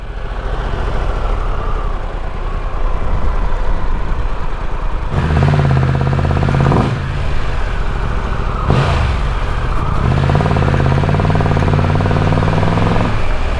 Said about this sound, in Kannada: ಸೌಂಡ್ ಸಖತ್ತಾಗಿದೆ ಒಂಥರ ವಿ ಟು ಇನ್ ಥರ ಬರುತ್ತೆ ಸೌಂಡ್ ಲೈಟಾಗಿ